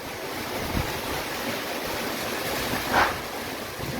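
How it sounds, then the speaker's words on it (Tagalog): Typhoon-strength wind from Typhoon Paeng (Nalgae) in the Philippines, October 2022, roars in a steady, broadband rush, buffeting the microphone with a brief gust swelling near the end; no voices. "Lumalakas na naman po, ayan, lumalakas na naman po ang hangin."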